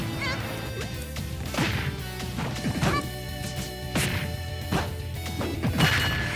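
Forward smash hits in Super Smash Bros. Ultimate during a Kirby versus Little Mac crew battle, a run of loud impact crashes and whacks landing repeatedly over busy game music and effects.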